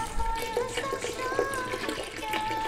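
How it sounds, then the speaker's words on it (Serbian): Water runs and splashes steadily into a blender holding lemon peel, a continuous liquid pour with faint clinks, close by and moderately loud. "Nakon što smo sve to stavili u blender, dodamo vodu."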